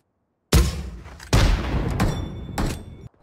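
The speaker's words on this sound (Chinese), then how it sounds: "看我轰他一炮" Heavy cannon blasts from a heavy-weapons shooter game featuring a sniper: three loud, booming explosions, each a sharp onset followed by a rumbling decay, spaced unevenly across a few seconds with no talk.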